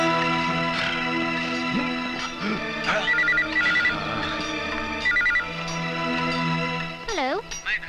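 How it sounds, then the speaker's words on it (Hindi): A phone rings in short repeated bursts behind music and voices, with a high electronic trill near the end. "सर, होम मिनिस्टर धर्मपाल जी का फोन है।"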